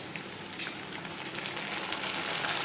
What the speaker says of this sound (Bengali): আলু পেঁয়াজটা আমার ভাজা ভাজা হয়ে গেছে আর ঠিক এই সময় আমি দিয়ে দেবো আদা রসুনের পেস্ট দু চামচ